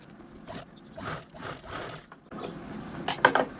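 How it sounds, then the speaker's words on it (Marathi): A sewing machine stitches along the open lower edge of a blouse in several short bursts of mechanical whirring separated by pauses, with a louder, denser run near the end. "आता हा जो काय खाली ओपन पार्ट आहे हा पण आपण स्टिच करून घेऊया"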